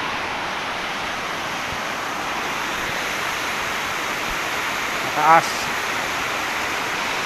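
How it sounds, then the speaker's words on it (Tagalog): Steady rushing water of a flowing river in Aklan, Philippines, fills the whole clip, a constant broad hiss with a brief louder splash near the end. "Ito yung ilog oh."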